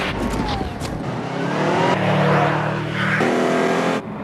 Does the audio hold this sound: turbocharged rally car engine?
yes